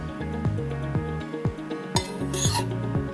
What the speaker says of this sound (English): I'm adding the fried ginger and jeera